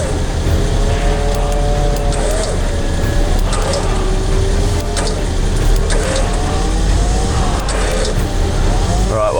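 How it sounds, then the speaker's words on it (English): An electric winch strains to pull a Toyota Bundera 4x4 up an embankment, a loud continuous whine with rising and falling pitch under a steady rumbling engine, heard close and alone. "Okay, I'm gonna start winching in, Aaron."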